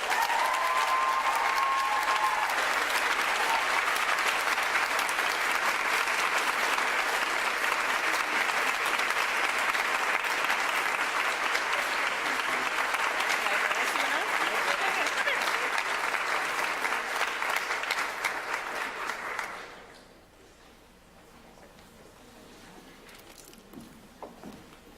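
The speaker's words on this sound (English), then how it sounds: "One final round of applause for our staff awards." Sustained audience applause at a college honors and awards ceremony for a staff award winner, steady dense clapping for about twenty seconds before abruptly fading into room quiet with faint talk.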